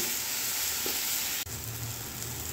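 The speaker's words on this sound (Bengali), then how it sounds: "মশলা ভাজা হয়ে গেছে" Spices with green chillies fry in oil with a steady, dense sizzle, close and even, with a brief dip partway through.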